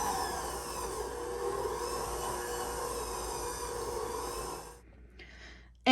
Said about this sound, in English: Then you'll close your mixer and turn on the power to low power and mix it until the ingredients are combined.